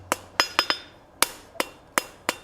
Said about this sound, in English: if you just take a few moments with the hand hammer, you can dress that up nice.